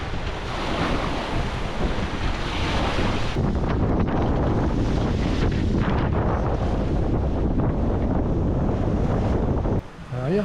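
Strong headwind buffets the microphone over steady rushing surf and waves on the open Atlantic, loud and continuous, easing briefly near the end.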